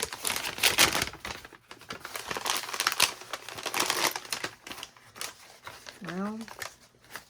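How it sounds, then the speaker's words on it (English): Scissors cutting through junk journal paper to open up a pocket, a run of crisp snipping and crinkling paper sounds up close, with a voice speaking briefly near the end. "I'm just going to cut this right here. To open it up."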